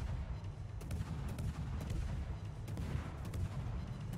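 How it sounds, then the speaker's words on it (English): Rapid naval gunfire from the Pan-European destroyer Småland in World of Warships, a dense rolling barrage of low booms and crackling shots continuing steadily throughout with no speech. "he's able to lay down some really withering fire on this enemy Mino."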